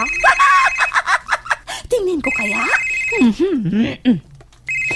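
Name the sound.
cellphone ringing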